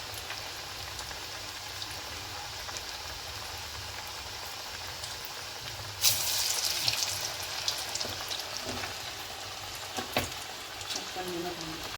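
Paruppu vadai, lentil fritters, sizzle in hot oil with a steady crackling hiss that swells louder and brighter as fresh fritters drop in, with scattered pops throughout.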